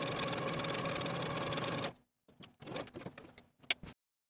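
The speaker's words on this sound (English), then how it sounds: "I'm going to use the longest stitch on my machine with about a 1/4 inch seam allowance" A sewing machine runs a long basting stitch across a dress bodice with a quarter-inch seam allowance, a steady close motor whir for about two seconds, then stops, followed by softer handling clicks and rustles.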